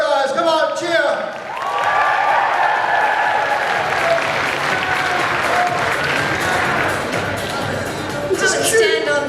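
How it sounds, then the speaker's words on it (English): A convention audience claps and cheers for a cosplayer dressed as a World of Warcraft Death Knight at a cosplay contest, sustained crowd applause with an announcer's voice briefly at the start and end. "Give it up for her, guys. Come on, cheer."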